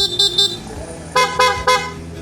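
A Honda ADV160 motorcycle's PIAA horn honks in short bursts: two quick beeps, a pause, then three more sharp honks in a steady rhythm, loud and close.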